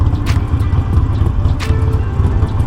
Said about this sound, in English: Now we got traffic all backed up because this schmuck can't figure out how to park his freaking car in South Philly.